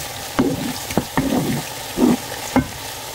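Onion frying in a pan, with a constant close sizzle broken by several distinct spatula scrapes and stirring knocks at an irregular pace.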